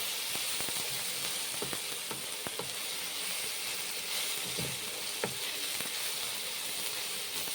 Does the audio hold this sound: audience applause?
no